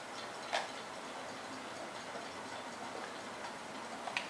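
Many clocks tick in Manfred's shop in Heavy Rain, a faint, quiet, steady ticking that runs on its own with a couple of slightly sharper clicks standing out.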